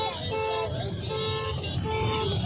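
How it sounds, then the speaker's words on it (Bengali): A car horn gives several short, bright toots spread over a few seconds, above a constant rumble of road traffic, with voices in the background. "এইভাবে হর্ন দে, হাতটা দে।"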